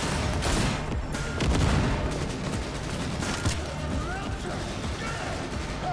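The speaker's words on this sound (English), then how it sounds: "Under heavy fire!" Dense game gunfire from Cyberpunk 2077 fills the scene: loud, overlapping bursts and booms run steadily throughout, with voices shouting over the firefight.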